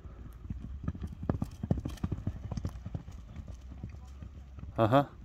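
A horse trots with steady, rapid clip-clop hoofbeats close by, talk running over it, and a short whinny near the end.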